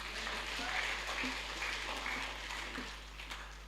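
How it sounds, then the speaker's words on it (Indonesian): Church congregation at a Christmas service claps together, a soft, distant patter of applause over a steady low electrical hum. "Tepuk tangan buat Tuhan."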